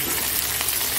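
Raw potatoes and green chillies hit hot oil with a loud, dense sizzle and crackle that fills the whole second without pause; no one speaks.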